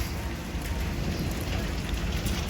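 Steady rain pours down outdoors near a building, a dense continuous hiss that is loud and unbroken, with no talk.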